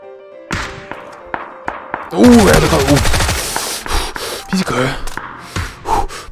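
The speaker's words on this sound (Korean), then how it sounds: "반대쪽에다가 교란 수류탄 써가지고 사운드 흘리게 한 다음에" Decoy grenade in the PUBG video game throwing out fake gunfire: a rapid burst of loud crackling shots and rattling bursts, with gasping voices and scattered thuds around it.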